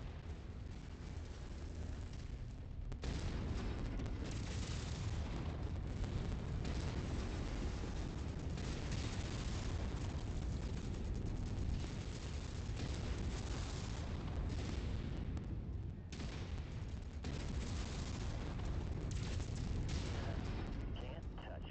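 Heavy explosions and gunfire rumble almost without a break as a target mech is destroyed in the modded MechWarrior 5: Mercenaries video game, a dense, loud battle din that dips briefly and then surges again.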